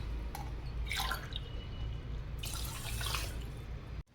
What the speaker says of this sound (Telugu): ఇప్పుడు 2 గ్లాసులు వాటర్ పోసుకుందాం.